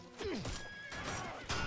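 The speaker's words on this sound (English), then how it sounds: "I was gonna take that horse." A horse in the video game Mount & Blade Warband lets out a single loud, close whinny that falls in pitch, alone with no talk over it.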